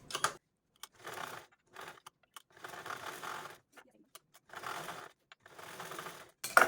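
Sewing machine stitching down both sides of a folded fabric money pocket, running in several short bursts of rapid mechanical stitching separated by brief pauses, close and moderately loud with no talk.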